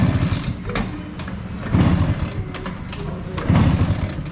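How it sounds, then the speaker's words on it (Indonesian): A motorcycle with a stock carburetor idles steadily after starting, its low engine rumble swelling in a couple of louder surges, with people talking over it. "cek sound mesinnya"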